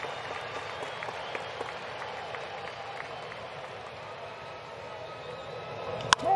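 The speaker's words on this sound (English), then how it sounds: "Nice crowd in Atlanta trying to urge Anderson on here." A large baseball crowd in Atlanta applauds and cheers to urge on the Braves pitcher during a Giants game, a steady distant roar of clapping that stays consistent throughout.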